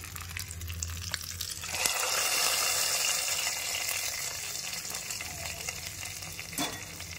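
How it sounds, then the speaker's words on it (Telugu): Hot red tempering is poured into karam pappu dal. A low hum gives way to a sudden, loud burst of sizzling that holds steady, then slowly eases. "తిరగమాత ఎర్రగా అయిపోయింది. పప్పులో వేసేస్తాము."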